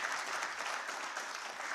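Audience applause fills a conference hall at the launch of an African vaccine production initiative, a steady, dense clapping from a large crowd, loud and continuous without a break.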